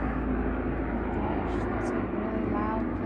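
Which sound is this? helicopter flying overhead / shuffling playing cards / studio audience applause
helicopter flying overhead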